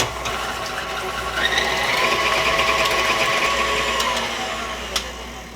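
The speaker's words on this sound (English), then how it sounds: "We'll go ahead and mix this up till it's well mixed." Electric hand mixer whirring steadily through a batter of sugar, oil, eggs and vanilla for zucchini bread, a continuous close motor hum with a brief clink near the end.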